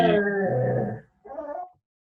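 A dog on a school committee video call gives a couple of whining, howl-like vocal bursts, one long and one shorter after a pause, fairly close and loud, with no talk over it.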